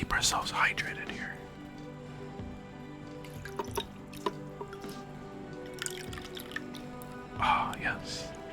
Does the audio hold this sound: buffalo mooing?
no